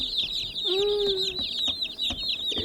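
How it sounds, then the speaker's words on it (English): High, rapid peeping of many baby broiler chicks close by, with one lower drawn-out call partway through. "picked up some more meat birds, some more baby chickens"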